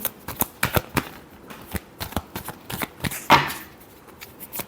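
Tarot cards are shuffled by hand for a Leo love reading, giving a run of quick, crisp riffling flicks and soft slaps in an irregular rhythm, close to the microphone with no talking.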